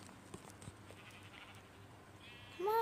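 In a crafting and building video game, a faint sheep bleat rises near the end over a quiet background of soft footsteps and small taps.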